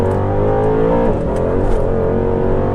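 A Mercedes-AMG C63 S engine roars loudly and steadily up close, its deep rumbling tone rising slightly as it accelerates.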